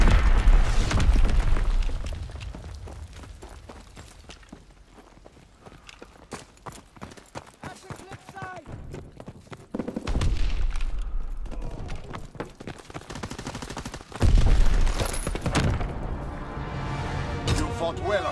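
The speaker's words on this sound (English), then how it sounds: "Enemy mortar fire incoming!" Enemy mortar rounds burst in a hardcore team deathmatch video game, heavy booming impacts landing near and far in clusters, with rumbling aftermath, scattered pops and voices talking in between.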